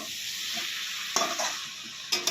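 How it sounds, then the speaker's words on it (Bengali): Hot water hits a pan of frying winter vegetables (beans, cauliflower, potato and tomato cooked in spices) with a constant bright sizzle. A few sharper spits and stirring clinks break through. "দেখো এখন কিছু গরম করা জল ঢেলে দেওয়া হবে"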